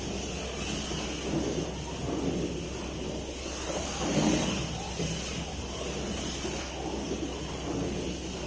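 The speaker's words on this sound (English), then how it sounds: "Time for a quick test drive of our 36 Ford Coupe chassis" A Monogram 1/24 scale '36 Ford Coupe vintage slot car on a 12-volt setup runs around its track, a steady thin electric whine with slight swells as it passes, nearby and moderately faint.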